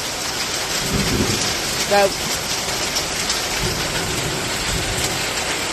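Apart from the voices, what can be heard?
rainstorm on a chicken coop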